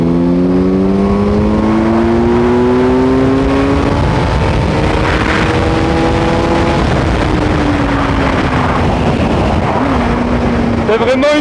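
A 2021 Kawasaki Z900 motorcycle engine, a 125-horsepower naked bike, accelerating hard, its loud rising engine note climbing through the gears with brief shift dips, and wind rushing throughout.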